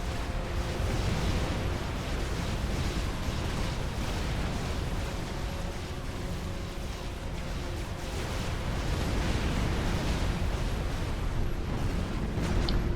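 Artillery fire shooting down bombers in the strategy game Wars of Glory, a dense continuous wash of rumbling blasts and crackling explosions, steady and moderately loud throughout with no talk.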